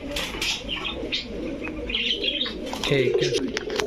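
Pigeons, including Rampuri, Teddy and Giribaz breeds, coo in soft repeated bursts close by, with chirps and a flutter of wings mixed in and faint speech underneath.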